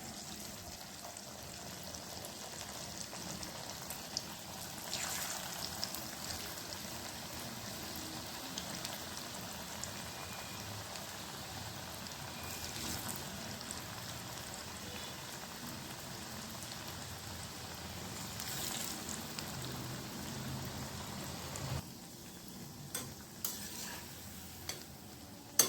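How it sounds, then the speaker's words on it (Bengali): Onion pakoras deep-frying in hot oil for a Bengali snack, a steady close rain-like sizzle with soft stirring and turning noises throughout, no talking. "এবার উল্টে পাল্টে লাল লাল করে ভেজে নিচ্ছি।"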